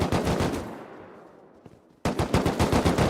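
Automatic gunfire in the video game Rust during a clan battle: loud rapid bursts that fade into sparse distant shots, then a sudden return of dense, close, sustained firing.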